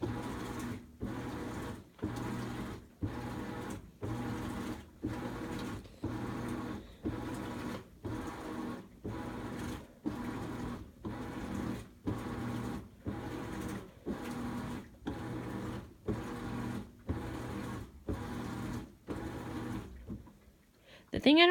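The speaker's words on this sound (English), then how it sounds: "The thing I don't like about this washer is that it takes an hour and 30 minutes to 2 hours just to wash one load." A home washing machine running a wash load, with a regular rhythmic sloshing and motor cycle repeating about every second, steady and close, ending in a brief clatter.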